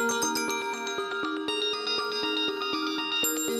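A phone ringtone from a scheduled fake call set up in a prank calling app, a bright repeating melodic pattern of tones playing steadily and fairly loud throughout, with no talking.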